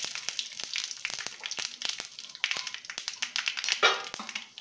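Mustard seeds and radhuni seeds tempering in hot oil for dal shukto: dense, sharp crackling and popping, close and continuous, rising to a brief sizzling burst near the end.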